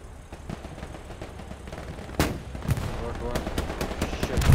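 Gunfire in Hell Let Loose, with rapid bursts and single sharp shots cracking nearby, growing louder and denser toward the end.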